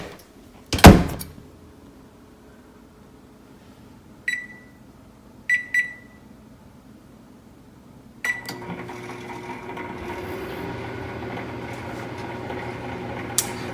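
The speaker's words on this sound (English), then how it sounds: "So I'm going to put it in the microwave." A microwave oven heating oatmeal: a loud door thump, a few beeps from the keypad, then a steady hum as it starts running.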